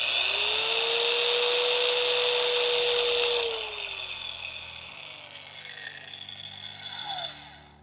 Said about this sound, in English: Move the pad around the surface of the washer, then bring it up to speed six.